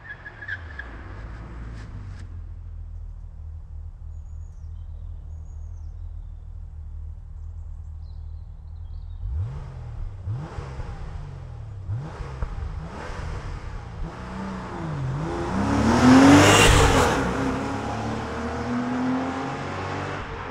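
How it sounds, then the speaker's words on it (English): Stereo recording of a Porsche 993 engine moving around the listening space: a low idle hum, then rising revs and sharp throttle blips building to a loud roaring peak before easing off. "stereo recording of a Porsche 993 that I made in 2005"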